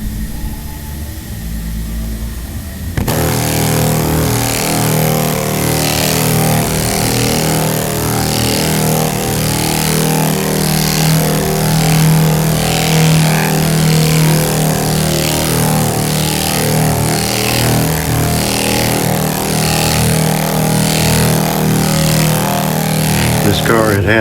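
Loud, continuous buzzing drone of a straight line air sander working bondo on a 1968 Camaro's bodywork, steady with rhythmic strokes, starting abruptly after a quieter opening while a voice talks over it.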